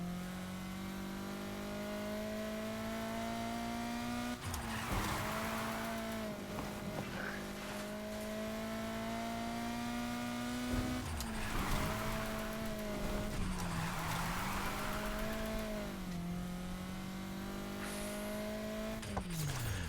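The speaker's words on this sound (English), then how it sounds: "Drifting is weird in this game." A drift car in Need For Speed Heat holds a steady engine drone while its tires squeal through repeated slides, with revs dipping and surging between drifts, loud and close, no talking.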